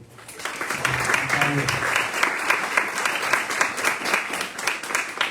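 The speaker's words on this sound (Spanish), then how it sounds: "Un aplauso para él." An audience applauds at a poetry discussion event, a dense burst of clapping that builds quickly and holds steady, with a brief spoken voice near the start.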